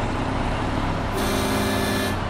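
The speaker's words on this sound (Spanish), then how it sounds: "La bocina buenísima." Truck horn honking in the video game SnowRunner, a steady sustained blare over a low engine rumble, loud and close, lasting about a second before cutting off.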